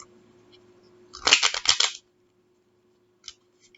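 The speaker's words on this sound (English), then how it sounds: "while I'm shuffling" Tarot cards are shuffled in a quick riffled burst of papery flicks and snaps lasting under a second, followed by silence and a single faint tap.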